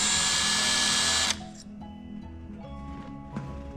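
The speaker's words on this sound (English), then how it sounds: "My dad drilled the holes." A power drill boring holes in a plate for a go kart, a loud high-pitched whine that stops abruptly after a second, leaving quieter clicks and handling noises.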